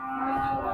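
A low, drawn-out moo from a cow at a cattle market in Khulna, close and steady, lasting under a second with no talking.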